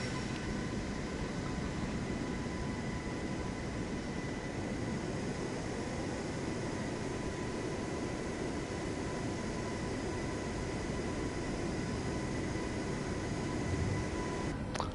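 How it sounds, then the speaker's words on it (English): An airliner taxiing across Chicago airport in Microsoft Flight Simulator gives a steady, even engine whine and rumble that holds unbroken throughout, with a slight swell near the end. "As always in Chicago, a pretty long taxi across the airport here to runway 22 left."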